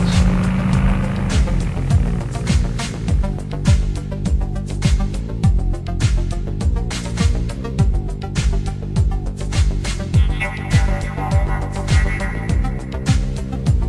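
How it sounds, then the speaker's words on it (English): Continuous road noise with engines passing and revving close by, a busy street hum with repeated vehicle sweeps and rattles. "The road noise from the vehicles and the motorcycles often bleeds into our recording sessions."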